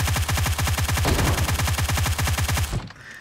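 A suppressed UMP submachine gun with a light grip fires in PUBG Mobile: one steady, rapid automatic burst of evenly spaced muffled shots lasting nearly three seconds, loud and close, then a short tail of silence.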